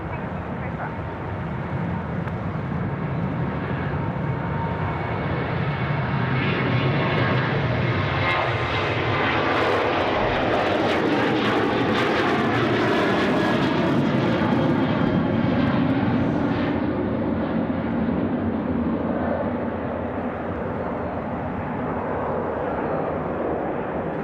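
An airliner takes off from runway 34 right at Sydney Airport, its jet engine roar loud and sustained, swelling and then easing as it passes, with radio chatter from air traffic control underneath.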